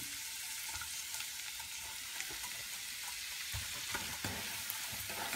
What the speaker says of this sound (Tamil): பச்சை வாசனை போகிற வரைக்கும் ரவையை நல்லா வறுத்தெடுத்துக்கலாம்